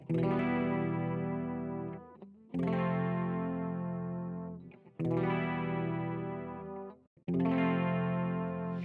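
Four sustained clean-toned guitar chords strummed in turn, a minor one to flat two progression swinging back and forth between two dark, tense-sounding chords, each left ringing alone before the next.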